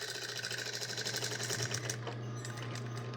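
A sewing machine edge stitches down the side of an apron pocket close to the folded edge, running as a steady, continuous motor hum with rapid needle chatter throughout, easing slightly near the end.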